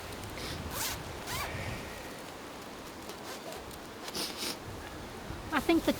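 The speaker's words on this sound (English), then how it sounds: "See, the double zip" A double zipper on camping gear in a forest is zipped in several quick rasping pulls, with brief ripping strokes near the start and a burst of short tugs at the end, close and fairly loud.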